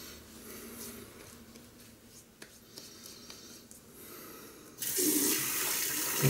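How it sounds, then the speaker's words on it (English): Tap water runs while soap is rinsed off hands, a steady close splashing stream that swells louder and fuller toward the end. "Rinse off my hands a little bit."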